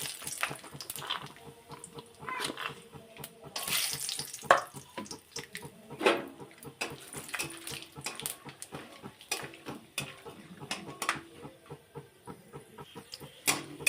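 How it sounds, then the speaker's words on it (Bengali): Nuts frying in oil with a little ghee in a kadai, giving a close, steady sizzle with scattered crackles and pops throughout, no talking. "তেলের মধ্যে একটু ঘি দিয়ে দেবো বাদামগুলো ভেজে নেব"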